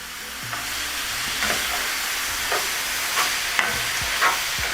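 Vegetables sauteing in a pan, a constant loud sizzle with periodic scrapes and stirs, close up with no talking.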